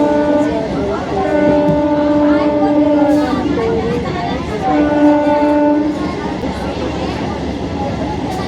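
A moving passenger train heard from inside a carriage on a rail journey through green countryside, with steady rumbling rail noise throughout, sustained horn-like tones, and voices talking over it.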